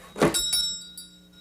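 A door slams as a sound effect for the animated Mickey's Christmas Carol, one sharp heavy thud followed by a short ringing tail and a lighter knock.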